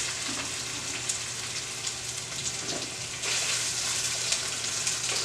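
Garlic and onion fry in a pan for a fish broth, a steady close sizzle with crackles and a stir, growing a bit louder midway.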